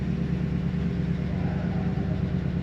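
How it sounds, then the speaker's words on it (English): A 1951 Mercury Custom two-door with manual transmission idles, its exhaust giving a steady low rumble from close behind the car, with no voices. "Lovely rumble coming out the back of this."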